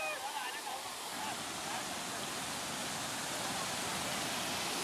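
Waterfall near Bhimashankar with clear flowing water, a steady hissing rush heard quietly from some distance, continuous and even, with faint voices around.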